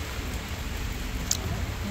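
A heavy downpour in Tashkent makes a dense, continuous hiss of rain, steady and close, with a brief sharper patter partway through.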